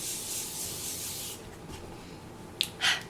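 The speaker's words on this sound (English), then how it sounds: "And now it's time to spray the face. I'm using the Morphe Continuous Setting Mist." A Morphe Continuous Setting Mist bottle sprays onto a face in a soft, close hiss lasting over a second, followed after a quiet pause by two short, sharper spritzes.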